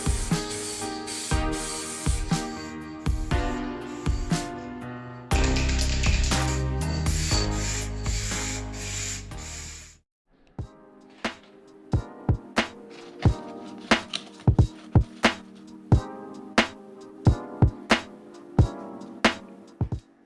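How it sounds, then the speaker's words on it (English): Spray can misting 1K plastic adhesion promoter onto old Tunturi Maxi moped plastic parts, with long continuous hissing passes for ten seconds followed by a series of short, sharp bursts, close to the microphone. "I pre-primed those plastic parts with 1K plastic adhesion promoter"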